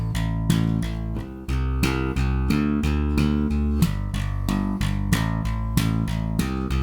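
Bass guitar played with a double thumb slap in a constant stream of 16th notes, even, fast and percussive, close and loud throughout with no voice.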